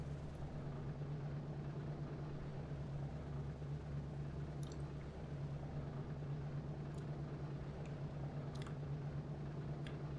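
Video-game B-17 bomber engines throttled back on a landing approach: a steady, even, low droning hum that stays constant and unbroken throughout.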